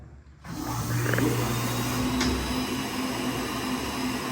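A Franzen automatic chain sharpener with a built-in vacuum starts up after a short silence, then holds a steady mechanical whir with a thin whine and a low motor hum.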